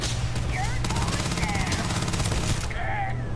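Rapid gunfire in Starfield, a sustained burst of automatic shots running for several seconds amid game effects, with someone talking over it.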